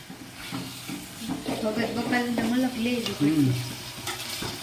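Hot oil sizzles as a tempering (vaghar) is stirred, a moderate frying hiss under a voice talking and sing-song chanting over most of the clip.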